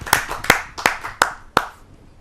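Audience clapping at a Hindi poetry gathering, heard as five sharp separate claps spaced about a third of a second apart, fairly close and with no other sound.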